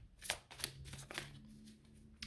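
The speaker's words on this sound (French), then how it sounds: "je vais aller rajouter des cartes" A deck of tarot cards being shuffled, several quick soft riffling bursts, close and quiet, with no talking.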